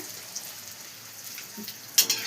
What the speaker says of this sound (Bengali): এই যে আমার বোন ফুচকা ভাজছে।